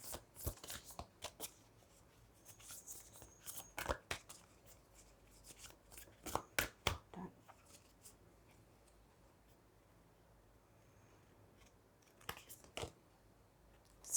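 Tarot cards shuffled for a reading, quick crisp riffling bursts in several separate runs with pauses between, close and quiet.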